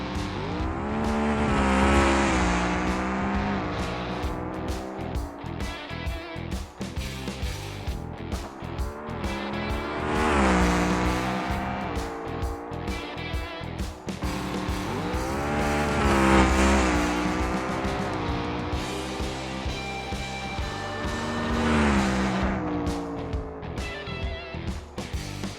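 Bruckell Bastion with a 500 cubic inch naturally aspirated engine making a drag run in BeamNG, a loud engine roaring up through repeated gear changes, each shift marked by a brief drop before rising again.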